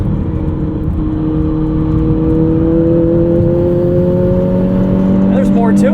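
A 2008 Volkswagen GTI two-door with a manual gearbox accelerating, its engine note climbing steadily in pitch as it pulls hard through a gear. The engine is close and loud, with constant road and tire noise underneath.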